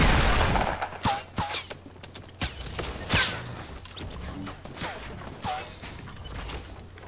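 Gunfire in Fortnite Battle Royale, a duo match with shotguns and regular rifles: a rapid burst at the start, then scattered sharp shots and impacts across the clip, with game sound effects in between.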